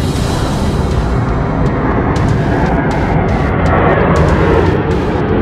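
Airplane on the ground or taking off in Afghanistan with people clinging to its fuselage, a loud, steady jet engine roar filling the whole stretch with faint shouts and crackles over it.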